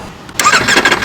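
A Ducati Panigale V4R motorcycle engine with an Akrapovic race exhaust cranks and fires into life after a brief quiet moment, then settles into a loud, rough idle close by.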